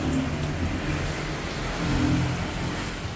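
A powerful single-seat motorcycle with a large engine and fuel tank revs loudly and steadily nearby, its rumbling drone rising and falling slightly over about three seconds with no voices.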